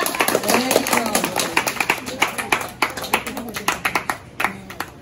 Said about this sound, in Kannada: ಎಲ್ಲ ಮಕ್ಕಳಿಗೆ ಒಂದ್ಸಲ ಚಪ್ಪಾಳೆ ಕೊಡುವ